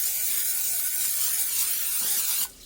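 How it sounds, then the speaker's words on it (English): A continuous hiss of a butter-flavored cooking spray can spraying into a pan up close, lasting a couple of seconds before cutting off abruptly. "My butter spray. Spray that in here."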